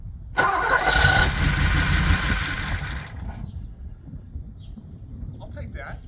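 A 1980 Porsche 928 that has sat unused for years is cranked and fires up, starting with a loud burst of engine noise that settles into a rougher, quieter idle. A faint voice can be heard underneath.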